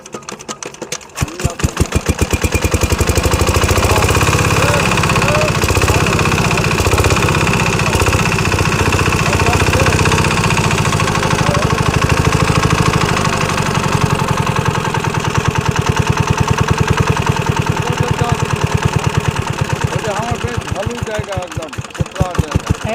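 A village shallow irrigation pump engine at a river starts with rapid sputtering knocks, then settles into a loud, steady, close chugging drone, slowing briefly near the end.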